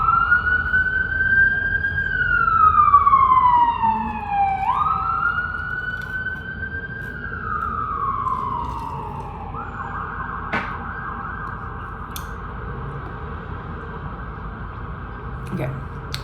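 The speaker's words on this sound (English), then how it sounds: "Where's this ambulance?" An emergency siren wails in a long rising-and-falling sweep, fairly loud at first, then shifts to a steadier tone as it moves off, with a low background rumble.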